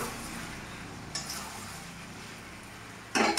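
Chicken for Kashmiri kesar chicken sautés in a pan with a steady soft sizzle, broken by two sharp scraping clatters of a spoon stirring against the pan.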